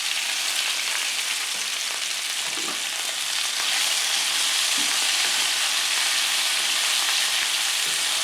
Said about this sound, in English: In with the cherry tomatoes.